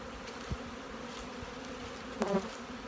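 A steady, faint buzzing of many bees swarms around an open supplement feeder in an apiary yard, with a couple of brief, louder passes as individual bees fly close.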